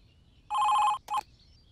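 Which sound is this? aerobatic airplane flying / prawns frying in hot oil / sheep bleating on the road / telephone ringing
telephone ringing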